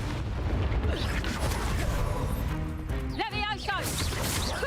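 The Depulso force spell cast in Hogwarts Legacy gives a burst of magical whooshing and a bright warbling chirp with a forceful impact. It sits inside a busy, rumbling game mix with a voice present.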